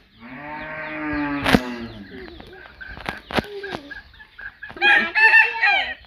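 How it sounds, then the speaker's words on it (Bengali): Broiler chickens at a village home give a long, drawn-out crowing call, then a scatter of short clucks and sharp squawks, close and clear against a quiet background. "ব্রয়লার মুরগি নিয়ে আসছে 5 কেজি না?"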